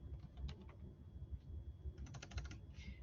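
Someone types on a computer keyboard during a class recording, giving quick light clicks in two short bursts, faint under a low background hum.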